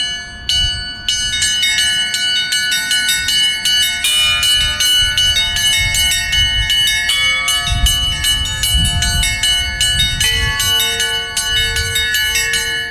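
A bell ringer rings Orthodox church bells in Lithuania, several bells sounding together in a loud, continuous, rhythmic peal of overlapping chimes and strikes.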